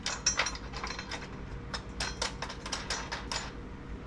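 Socket wrench tightening a nut and bolt with washers while installing a Barricade HD bumper on a 2019-2023 Ford Ranger FX4, giving a series of quick close ratcheting clicks in irregular bursts.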